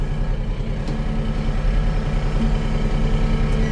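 A tractor engine running steadily, a close, loud low chugging drone with an even, unchanging rhythm and no speech.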